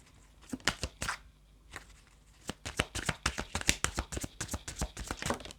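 Cards are shuffled by hand for a tarot reading in a quiet room, with soft irregular flicks and rustling taps close by. There is a brief pause before the shuffling resumes.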